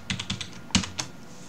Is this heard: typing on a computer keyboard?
yes